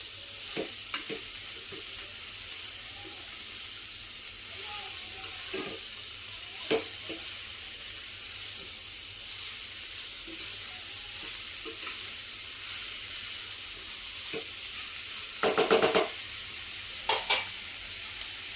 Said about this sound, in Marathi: व्यवस्थित परतून घेऊया आतमध्ये व्यवस्थित मिक्स करून घेऊया आपण